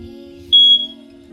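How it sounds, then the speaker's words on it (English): An RV smoke detector is pressed for a test and gives one short, loud, shrill beep over a steady low hum. "The next thing to check is the smoke detector."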